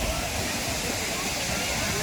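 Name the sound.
waterfall in Goa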